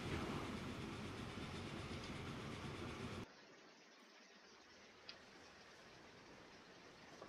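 Train running in Transport Fever 2, a soft steady rolling rumble with faint rail clatter that drops abruptly to a quieter background hum partway through, with one small click later.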